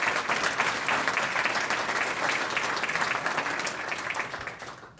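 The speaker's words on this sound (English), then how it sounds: "Let's give them a round of applause." An audience at a chamber of commerce anniversary event breaks into steady, dense applause that continues evenly and then tapers off near the end.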